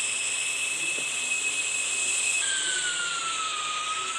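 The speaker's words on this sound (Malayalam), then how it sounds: "ഈ ജെറ്റ് പാക്ക് കൺട്രോൾ ചെയ്യാൻ കുറച്ച് പാടാം" Jet pack flying in the mobile game Indian Bike Driving 3D: a steady, loud, hissing jet-engine roar holds throughout with a high whine that shifts pitch partway through, no talk over it.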